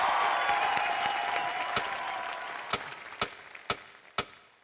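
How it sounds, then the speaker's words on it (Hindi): An audience on a television entertainment show applauds in a sustained wash of clapping that fades out, ending in a few separate claps. "चलिए एक बार जोरदार तालियां हो जाएं इनके लिए।"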